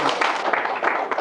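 An audience applauds in warm welcome for Greg and Susan Wilson at a Kiwanis Christmas Lane gathering, a dense, steady patter of clapping that fills the whole short moment with a voice mixed in.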